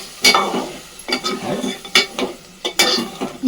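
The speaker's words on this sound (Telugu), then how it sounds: "ఇదంతా పచ్చి వాసన పోయేదాకా వేపుకోవాలన్నమాట" Beef curry masala fries in a pan while a spoon stirs it in quick separate scrapes and clinks over a soft, steady sizzle, close and without talk.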